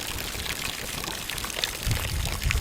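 Brown, bad-smelling wine poured out into water, a steady broadband splashing pour that grows louder and heavier toward the end, with no talking.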